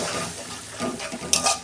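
Bowl-rinse water splashed into a hot pan of spice paste for an eggplant dish, followed by close scraping and stirring with a soft sizzle and a brief bright clatter near the end.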